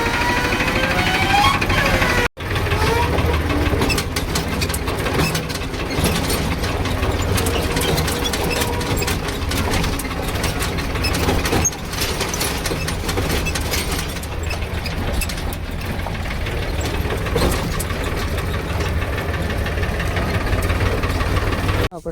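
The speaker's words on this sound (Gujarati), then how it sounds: "ચાલુ કરી દે ટ્રેક્ટર" A tractor engine runs in a farm field, a loud, steady mechanical rumble with a knocking, vibrating texture that continues nearly unbroken, apart from a momentary cut early on.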